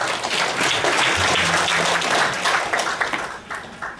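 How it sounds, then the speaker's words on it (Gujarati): Audience applause at a Bhagavat religious gathering, a dense crowd clapping loudly for several seconds and then thinning out as it fades toward the end. "જોરદાર તાળીથી વધાવજો આપણે."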